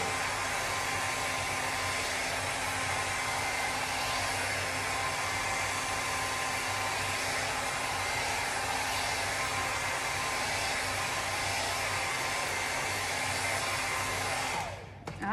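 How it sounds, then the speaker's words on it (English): A hair dryer blows steadily on a freshly painted wooden craft board, a loud continuous whoosh lasting about fifteen seconds before it cuts off abruptly at the end. "So let's give this a good old blow dry."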